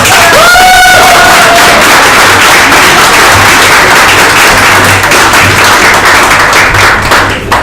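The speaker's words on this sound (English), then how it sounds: "It should be really good, so yeah, we clap." Loud, sustained applause from a crowd, dense clapping that continues steadily throughout with a brief whistle or whoop near the start.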